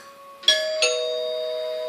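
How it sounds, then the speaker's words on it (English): A door's bell rings twice, a bright two-tone ding then dong, each strike ringing on and slowly fading in a quiet, eerie horror story scene. "rang the bell on the door anyway"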